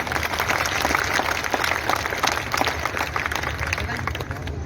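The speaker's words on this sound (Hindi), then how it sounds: "के लिए ताली बजना चाहिए कि नहीं भार्गव जी?" A crowd at a ward election office inauguration claps steadily for the mayor, a dense, sustained round of applause with a voice speaking over it.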